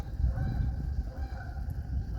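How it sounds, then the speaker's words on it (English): Geese honk repeatedly over open water near a bass fishing spot, a steady chorus of calls at moderate distance over a low rumbling background, with no speech. "What them crazy geese are doing?"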